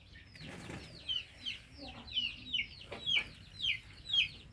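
Chicken clucking repeatedly while hung up during home treatment for CRD (snoring respiratory disease), a series of short squawky calls in a steady rhythm, moderately close, over low background rustle.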